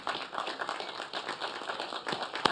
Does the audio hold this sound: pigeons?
no